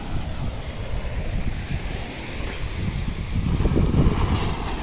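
Night sea waves crashing on Gopalpur beach in Odisha make a continuous broadband roar mixed with gusty wind noise, swelling louder toward the end as a bigger surge rolls in.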